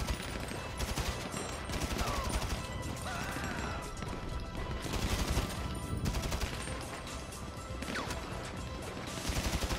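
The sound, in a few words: gunfire in the video game Grand Theft Auto V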